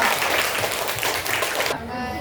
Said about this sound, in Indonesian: kita tepuk tangan dulu untuk kelompok 3